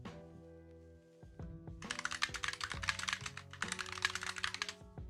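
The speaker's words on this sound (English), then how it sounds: "mine's a mechanical keyboard" Keys clatter on a mechanical keyboard in rapid, continuous bursts of sharp clicks, close and loud, after a few slower isolated taps at the start.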